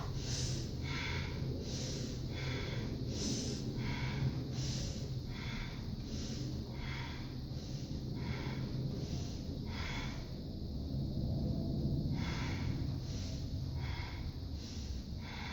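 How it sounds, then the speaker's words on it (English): Fast rhythmic yoga breathing, quick sharp nasal inhales and exhales repeating in a steady pulse about twice per second, close and clear, with a brief pause before the rhythm resumes. "Inhale, exhale."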